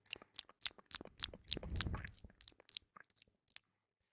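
Close, quiet ASMR chewing of food, with crisp crunchy bites and wet mouth sounds in an irregular rhythm that fade toward the end, no talking.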